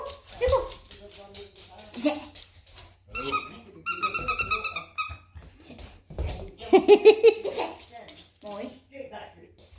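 Young puppy giving high whimpers and short yips, mixed with a few bark-like yelps and soft thumps, close by on its first full day at home, with people talking in between.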